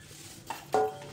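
Roasted dry dates (kharik) tipped from a pan onto a large plate in a home kitchen, with two short clattering scrapes against metal, the second louder, over a quiet background.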